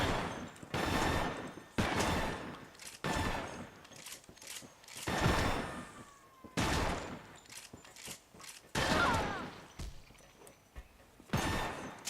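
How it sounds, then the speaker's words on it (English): A newly acquired shotgun firing in the video game Loadout: a series of loud, booming blasts in irregular bursts, each followed by a short decay and mechanical clatter between shots, with no talk. "want to test my new shotgun"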